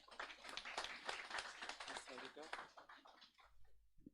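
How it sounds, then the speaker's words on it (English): Applause at the launch event of the Middle Power Studies Network: a burst of audience clapping with a voice talking over it, thinning out and fading near the end. "Let's give a big round of applause."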